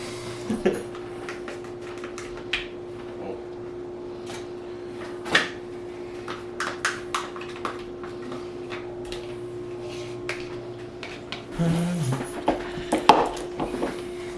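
Softened, room-temperature cream cheese and other ingredients for a Mexican dip are stirred together in a bowl, giving scattered light clinks and scrapes with a busier cluster of knocks near the end.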